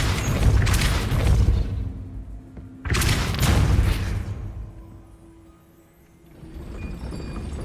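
A Depulso force spell cast in Hogwarts Legacy: two loud, deep whooshing blasts a couple of seconds apart, each with a thumping onset and a rumbling tail, then a quieter swell of ambience near the end.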